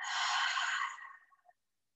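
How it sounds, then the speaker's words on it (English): A single long, deep exhale is heard close up during a guided breathing and chakra-balancing exercise. The breath is steady and airy, then tapers off and ends in silence. "Exhale."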